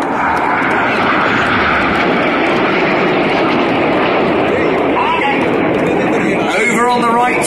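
Red Arrows jets fly over the airshow at East Fortune, one trailing smoke that changes from blue to white; their loud, broad engine roar fills the whole stretch while a voice talks over it toward the end.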